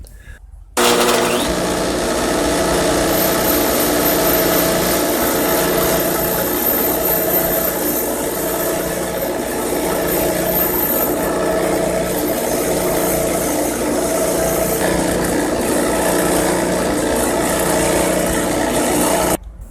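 An Echo GT-225 string trimmer engine, long unused, starts after test firing and runs steadily for nearly twenty seconds, a loud, close, buzzing two-stroke drone that cuts off at the end.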